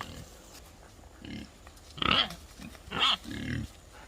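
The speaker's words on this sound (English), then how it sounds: "He's our boar pig." A boar pig grunts and snorts in several bursts, close by, with a couple of louder squealing grunts in the middle.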